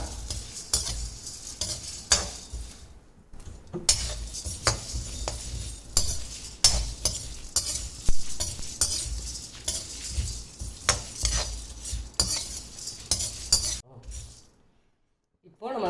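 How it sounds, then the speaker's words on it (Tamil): Green chillies sautéing in a pan for coriander crab masala, with close, steady stirring scrapes and metal clinks over a sizzle and brief pauses. "இப்போ பச்சை மிளகாய் அதில் சேர்த்துட்டு அதையும் வதக்கிக்கலாம்"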